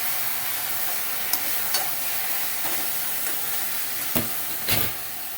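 Ambadi greens fry in hot oil with a constant sizzle, broken by a few sharp scrapes and knocks of a spoon against the pan.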